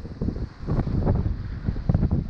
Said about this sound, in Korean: 진짜 세다 바람